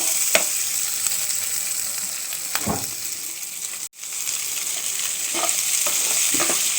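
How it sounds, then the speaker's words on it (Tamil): Onions frying in coconut oil for Kerala-style vulli theeyal, a constant bright close sizzle with a few soft stirring scrapes and one brief dropout near the middle, no voices. "அடுத்தது வெங்காயத்தை போட்டுப்போம்."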